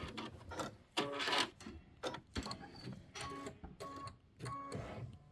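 An embroidery sewing machine runs its thread-cut function while stitching a Kimberbell Hello Sunshine traditional pieced block: a run of mechanical whirring bursts and clicks, stopping and starting in short pulses, close and moderately loud, with no talking.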